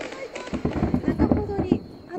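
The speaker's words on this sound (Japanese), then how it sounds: "下の方から今 カラフルな、 カラフルな花火が続々と上がっています" Colorful fireworks burst one after another at the Takasaki fireworks festival in Japan, a rapid cluster of bangs and crackles from the mid distance, with people talking nearby.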